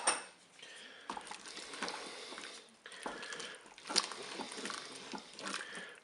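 Ingredients for a cauliflower dish with mustard and tomato paste being stirred in a Cookeo pot, a continuous wet scraping and clinking of a utensil against the pot, close and steady, with no talking.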